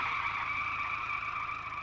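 A car skids as it brakes to a stop, a loud sustained tire screech holding steady for about two seconds with engine rumble underneath and no talk.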